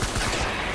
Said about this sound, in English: Oh my god, somebody else is shooting at me